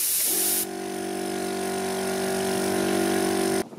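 An air compressor at a solar power station restarts against 6 bar of pressure, a loud, steady motor drone with a strong hum that runs for about three seconds after a brief high hiss, then cuts off abruptly.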